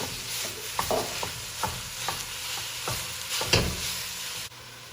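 Ground beef fries in a pan after onions for a lasagna, a steady close sizzle punctuated by repeated rhythmic spatula scrapes and stirring knocks, with no talking.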